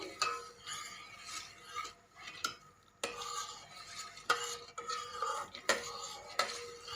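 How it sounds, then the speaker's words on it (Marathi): A spoon stirs sugar into milk in a pot, making repeated scraping strokes against the metal at a steady rhythm of roughly one every second or so, close and moderately loud with no voices. "आणि आता आपण याच्यात साखर टाकूया साखर अशी विरघळवायची"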